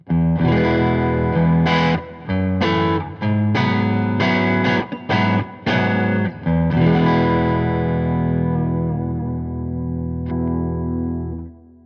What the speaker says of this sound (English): let's have a listen on the neck pickup, just to this clean tone